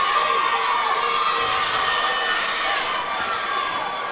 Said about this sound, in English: big round of applause for both of these welterweight warriors